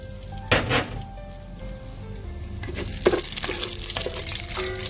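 Shahjeera (caraway seeds) sizzling in hot oil in a pan while making Hyderabadi bagara rice, a steady close frying hiss with a few stirring clatters and bursts partway through.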